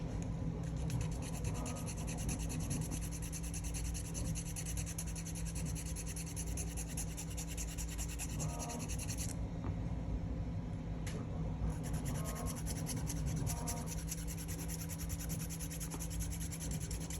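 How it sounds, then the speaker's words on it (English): A hand file rasps steadily across the rough edge of a part for a 1/14-scale RC Kitty Next Gen D8 truck, a continuous close scraping that barely changes over many seconds. "I'm actually gonna file down some of this edge right here"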